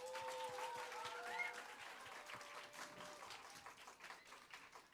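A homeschool festival audience claps for children who recited all of Matthew chapter 5, quiet, distant applause with sustained musical tones drifting over it early on, fading slightly toward the end.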